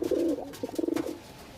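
A Madras pigeon coos softly in short throaty bursts, fairly faint, with a muffled rustle and background noise around it.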